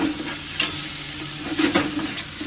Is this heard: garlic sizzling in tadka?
yes